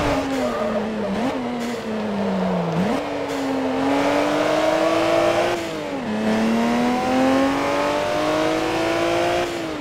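Engine of a tuned coupe in the racing video game Forza Motorsport 3, revving loudly and continuously with rising pitch through each gear and sharp drops at the shifts, several gear changes in a row, close and alone.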